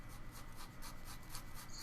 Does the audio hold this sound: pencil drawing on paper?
yes